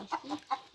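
Chickens give several soft, short clucks in quick succession at a moderate distance, with no talk over them.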